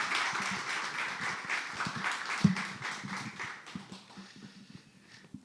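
An audience at a church conference lecture breaks into sustained applause, dense overlapping claps filling the room and gradually thinning out as they fade.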